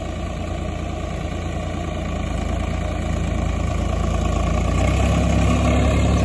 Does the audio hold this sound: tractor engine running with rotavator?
yes